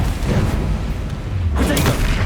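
A Confringo fire-blast spell explodes in Hogwarts Legacy, a dense booming burst that swells again near the end, loud and close amid rumbling combat noise with a voice shouting over it.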